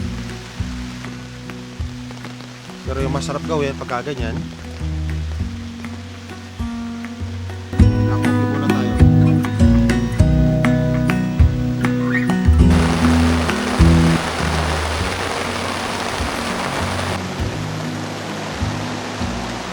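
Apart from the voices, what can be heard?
sudden heavy rain at a mountain campsite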